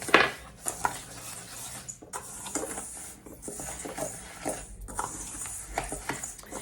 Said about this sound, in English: we are going to mix these ingredients up